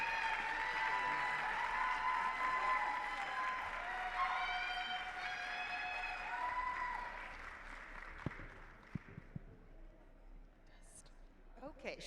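Applause for a winner at a dental hygienist awards ceremony, steady clapping from an audience that gradually thins out and fades into scattered claps, with a voice speaking over it.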